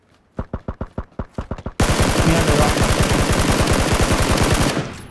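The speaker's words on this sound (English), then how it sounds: "Heavy shots northwest of us right now." Heavy gunfire in a video game: a string of separate loud shots, then a sustained rapid automatic burst that rattles on for about three seconds before cutting off.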